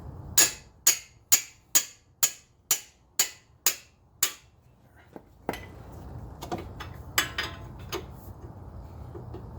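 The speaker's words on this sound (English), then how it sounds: "Just going to give it a good few whacks with the hammer." A run of about nine sharp metallic hammer strikes on an Infiniti JX35/QX60 front brake caliper in steady rhythm, loud and close, followed by quieter clanks and shop rustling.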